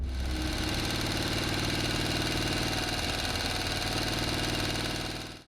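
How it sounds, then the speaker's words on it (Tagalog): A motorcycle engine runs steadily at close range, a constant throbbing drone with no voices, cutting off abruptly at the end. "Sakay ng aming motor ay nagumpisa kaming libutin ng lugar."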